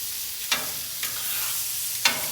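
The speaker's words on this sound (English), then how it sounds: "All right, time to turn these over." Blackened shrimp sizzle steadily on very hot cast iron on an outdoor grill, a loud continuous hiss broken by three brief scraping clicks as the pieces are flipped, with no talk.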